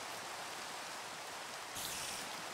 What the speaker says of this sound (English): this time it just started raining